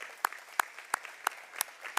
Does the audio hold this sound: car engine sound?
no